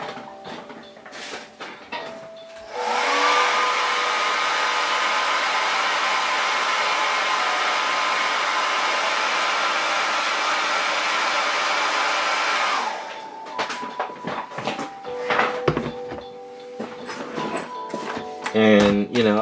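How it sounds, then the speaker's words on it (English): A blow dryer runs for about ten seconds as a steady loud whir, drying silly putty on a Jessica Rabbit Star Trek costume piece. It clicks on and off amid nearby handling noises and someone talking before and after. "So I'm going to go hit this with the blow dryer real quick."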